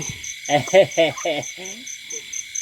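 Frogs croak in a rice paddy at night, a burst of five or six loud, close, throaty calls fading to weaker ones, over a steady pulsing chorus of crickets.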